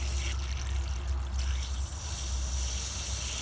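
Water from a garden hose pouring through a Dodge Nitro heater core during a flush, a steady, close splashing and trickling flow with a low rumble, continuous and without talk.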